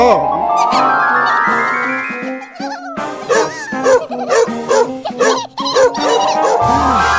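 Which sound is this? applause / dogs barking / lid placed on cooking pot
dogs barking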